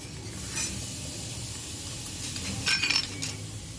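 Tomatoes for chutney sizzle in a miniature pan, a soft continuous frying hiss with a few faint scraping stirs and light metallic clinks of a small utensil near the end.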